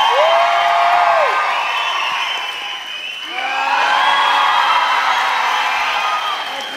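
A live stand-up comedy crowd applauds and cheers with whoops and shouts, easing off midway before surging again into loud, sustained cheering.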